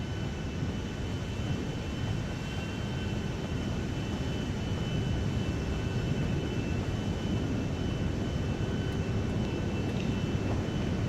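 A plane engine in GTA 5 drones steadily at an airport hangar, a constant loud roar with a faint high whine and no talking.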